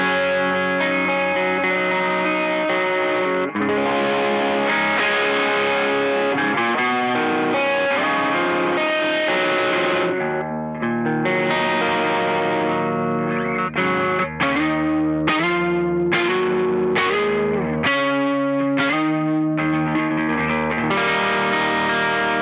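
A Fender Jazzmaster electric guitar played through a Klon KTR overdrive pedal gives a continuous driven, slightly gritty tone of chords and single-note phrases, steady and loud throughout with no voices.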